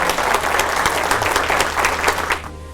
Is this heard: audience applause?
yes